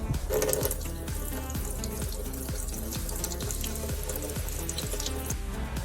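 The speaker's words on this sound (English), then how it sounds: "cool the burn with potable clean water for 5 to 10 minutes" Clean potable tap water running steadily to cool a thermal burn, a continuous close splashing stream with light dripping, no voices.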